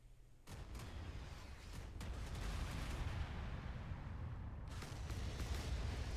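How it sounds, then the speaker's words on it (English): In the naval combat game Modern Warships, missiles are fired and roar over an island in a match. Several sharp launch bursts cut through a dense, rumbling wash of distant battle noise, and no one speaks. "See those missiles fly over the island."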